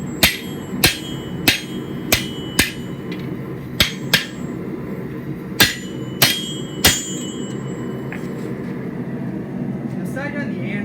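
A hammer strikes a sword blade on an anvil in about a dozen sharp, ringing metallic blows at an uneven, spaced rhythm, close and loud over steady workshop background noise.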